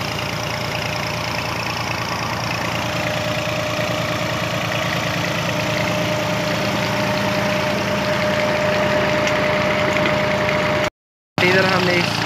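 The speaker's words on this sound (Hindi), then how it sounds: "ये हमारा ट्रैक्टर है जो चल रहा है" A tractor engine idles steadily near a borewell, its low, even chugging continuous and close, broken by a brief dropout near the end.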